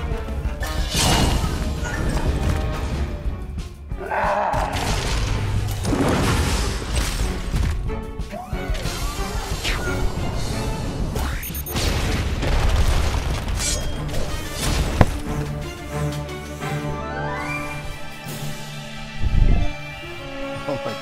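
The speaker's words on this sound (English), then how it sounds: "I see the missile barrage to show that off." Repeated heavy booms and crashes from a missile barrage in the video game Costume Quest, loud dense explosions rolling on continuously with occasional sharper impacts and background game music.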